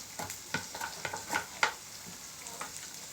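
Close, gentle sizzling of carrots shallow-frying in oil until crisp and golden, broken by repeated scraping stirs at an uneven pace.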